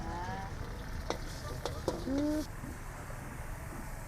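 Street-vendor pad thai with egg stir-fried on a hot pan, loud continuous sizzling with a few spatula clanks, plus a short bird coo and background voices around it.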